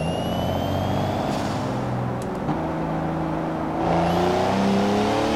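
A Mazda Roadster's engine drones steadily while driving in Forza Horizon 4, a smooth continuous hum that swells louder and higher near the end as the car accelerates.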